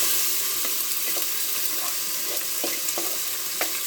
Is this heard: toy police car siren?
no